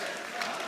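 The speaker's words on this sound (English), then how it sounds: "The crowd is cheering for them" Esports crowd at the ESL One 2015 Katowice CS:GO semifinal, Virtus.Pro versus Fnatic on Mirage, giving a dense, steady roar of cheering and applause that fills the brief moment without a break.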